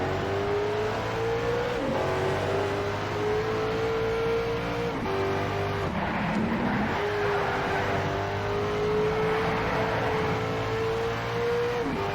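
A fully upgraded car lapping in Need for Speed: SHIFT, engine droning loud and steady, pitch climbing and dropping sharply with each gear shift, and a brief tire skid partway through; no talking.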